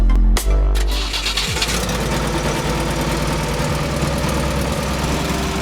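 A boat-like ferry's engine drones steadily on the Naryn River in a Kyrgyz village, a continuous mid-pitched idle churning loud and close after a brief knock at the start, with no talk over it.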